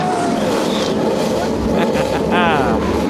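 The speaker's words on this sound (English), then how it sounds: "Drivers, start your engine!" NASCAR race car engines fire up and rev at a EuroNASCAR event in Germany, a loud continuous rumble with rising and sweeping revs layered together, while an announcer's voice talks over the noise.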